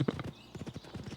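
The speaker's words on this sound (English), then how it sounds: "Please don't bother my horse." Horse hooves clop in a quick, steady rhythm in Oblivion Remastered, a short close run of hoofbeats heard clearly on their own.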